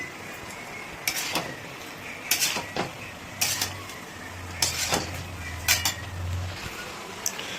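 A vegetable curry of papaya, radish and brinjal being stirred with mustard paste in a pan, bursts of scraping and clinking spoon strokes against the metal roughly once a second over a low background hum.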